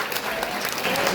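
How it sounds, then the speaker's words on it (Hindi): Schoolchildren at a higher secondary school in Indore clap together in a short, lively burst, the brisk patter of many small hands filling a room for about a second. "आ जाओ, तालियां"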